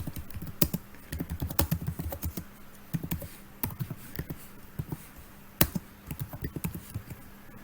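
Computer keyboard typing in short, uneven bursts of close, crisp key taps with brief pauses between them, entering a Linux command at a Debian terminal.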